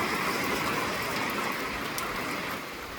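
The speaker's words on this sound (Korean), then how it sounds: "빗소리 너무 좋다." Steady rain falling, a dense even hiss of drops on surfaces that continues throughout without pause.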